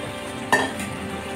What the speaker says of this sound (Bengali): দিয়ে আমি এবার ভালো করে কষিয়ে নেব মশলাটা ফুলকপির সাথে